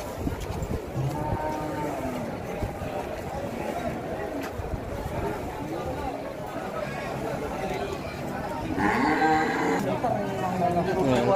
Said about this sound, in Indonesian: untuk penanganan sapi yang mengamuk seperti ini biasanya akan digandengkan atau ditali dengan sapi yang lainnya agar dia lebih tenang